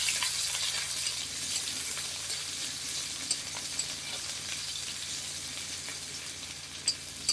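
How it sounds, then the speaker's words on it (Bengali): Onions frying in oil in a wok give a steady, bright sizzle that holds evenly throughout, with a few faint clicks and pops of stirring near the end. "পেঁয়াজটাকে আগে লাল করে ভেজে নেবো"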